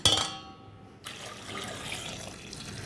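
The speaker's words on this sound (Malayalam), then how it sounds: "അതിൽ കുറച്ച് വെള്ളം ഒഴിക്കണം" Water is poured into a cooking pot holding ash gourd and two drumsticks, a brief bright splash at the start settling into a steady, moderate gurgling stream.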